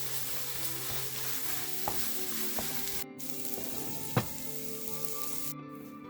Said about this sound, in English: Mix well and cover and cook it on a medium flame for 5 minutes.